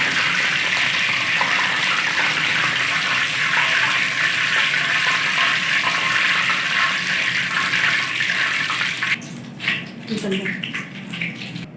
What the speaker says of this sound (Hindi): टिक्कों को मैंने हल्का सा फ्राई कर लिया।